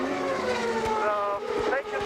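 An Indy race car on methanol revs high at the 2000 Michigan 500, its engine wailing and climbing in pitch as it pulls away, heard from a distance over crowd and ambient noise.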